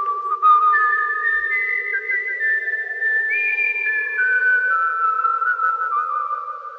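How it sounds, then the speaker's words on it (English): A storyteller whistles a lilting, wavering tune alone, the melody rising and gliding between notes for several seconds with steady breath and no talk. "and he whistled"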